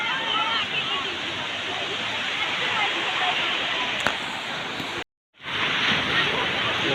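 Steady roar of surf and breaking waves at the shore by Somnath temple, loud and close, with a brief dropout near the end before the rush resumes.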